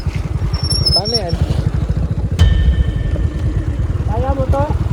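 A 125 cc scooter engine runs steadily with a low, pulsing drone throughout, close and fairly loud, while people talk over it.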